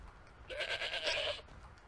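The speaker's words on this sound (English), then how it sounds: "Here's your goat." A goat in Skyrim bleats once, a wavering nasal call lasting about a second, close and clear with no other sound around it.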